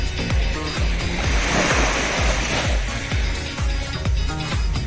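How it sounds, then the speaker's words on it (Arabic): Sea waves roll and wash loudly along the Italian coast in a continuous surging roar, with repeated rhythmic thumps pulsing underneath. "البحر هنا ديال ايطاليا"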